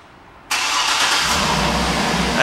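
A 2010 GMC Yukon XL SLT 4WD engine fires up by remote start after a brief quiet moment, catching instantly and settling into a steady, fairly loud idle nearby.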